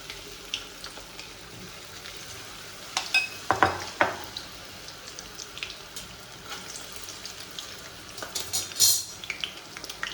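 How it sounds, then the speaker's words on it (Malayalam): Chilli gobi, cauliflower pieces in batter, deep fries in hot oil with a low, continuous sizzle, punctuated by a few sharper clattering bursts as the pieces are moved around the pan. "നല്ല ഡീപ്പ് ഫ്രൈ ചെയ്തെടുക്കണം."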